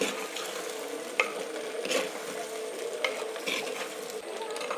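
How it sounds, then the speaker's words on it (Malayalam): Vegetables being stir-fried with onions in coconut oil, a steady sizzle under repeated spoon-scraping stirs, close and continuous with no talk. "ഈ വെളിച്ചെണ്ണയിൽ ഒന്ന് നമുക്ക് വെജിറ്റബിൾ നന്നായിട്ടൊന്ന് മറച്ചു കൊടുക്കാം"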